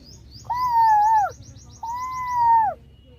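A child makes two long, steady whistled coos imitating a cuckoo's call, close and clear, with a short gap between them and a faint chirping behind.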